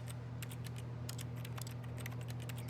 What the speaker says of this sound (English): every time I click, it makes like a keyboard clicking sound